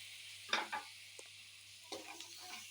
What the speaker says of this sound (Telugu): కొంచెం మనం ముందుగా కట్ చేసుకున్న టమాటాని వేసేసుకుందాం